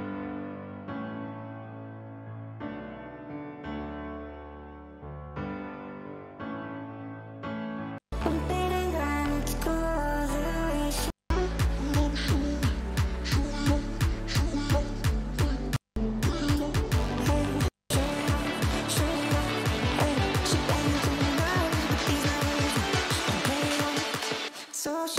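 Future bass electronic music made in FL Studio: a soft synth chord intro gives way to loud pumping supersaw chords with punchy drums and brief dropout gaps, played alone without talk.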